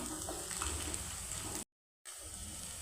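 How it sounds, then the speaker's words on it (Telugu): Dried shrimp frying in hot oil until brown for a Telugu dried shrimp tomato curry, a steady close sizzle and crackle that cuts out briefly and then resumes with no voice over it. "ఇవి ఆయిల్లో మంచిగా వేగనివ్వాలండి బ్రౌన్ కలర్ వచ్చేదాకా వేగనివ్వాలి"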